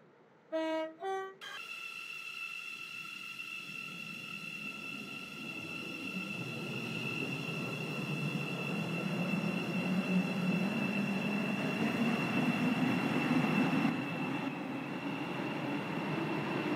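A train running in the Stepford County Railway game, a steady rumbling drone with a sustained tonal whine that builds slightly in loudness, preceded by a short chime.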